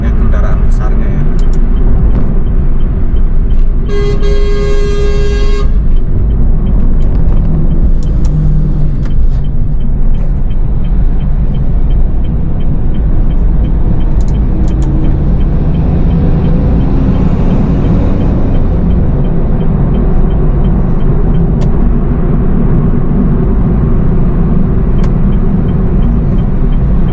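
Loud, constant roar of heavy highway traffic on the Cikampek toll road, with many trucks and buses rumbling past and a brief high hiss like an air brake early on, all under continuous in-car noise.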